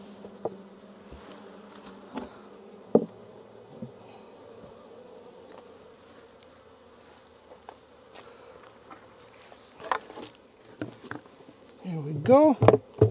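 Honey bees buzz around hive boxes while comb is being shifted to equalize hives before winter, a low steady hum with occasional louder passes close by and light handling knocks, rising into a busy flurry near the end.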